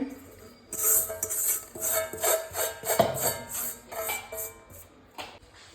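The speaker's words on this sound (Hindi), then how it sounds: "सबसे पहले जो है ना मैं इसमें डालूंगी रवा, जो कि मैंने 1 kg लिया है" One kilogram of semolina (rava) pours into a large cooking pot while sweets are prepared for Chaturthi, a close, steady granular rustle that swells and fades in waves for about five seconds.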